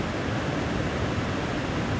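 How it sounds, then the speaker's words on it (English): A waterfall at a wet winter camp rushes in a steady, dense roar of broadband noise, loud and unbroken with no voices. "watch the waterfall,"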